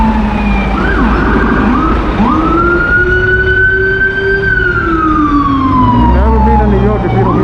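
A loud emergency siren wails steadily nearby on Broadway in Manhattan, New York, its pitch rising and falling in long sweeps over low traffic rumble.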